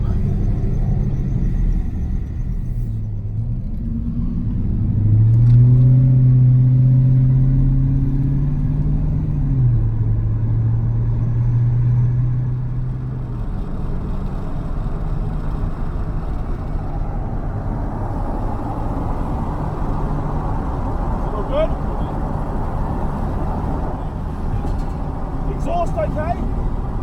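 Race car with its exhaust freshly repaired and zip-tied, heard from inside while driving home: a steady low engine drone with a deeper, revving swell in the middle, then a rougher rumble to the end.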